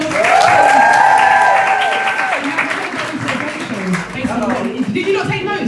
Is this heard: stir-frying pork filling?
no